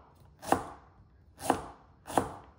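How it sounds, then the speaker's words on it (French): Peeled ginger being coarsely chopped with a knife on a board: three distinct, crisp chops spaced about a second apart, close and clear with no talk. "On va venir le peler et on va le couper grossièrement."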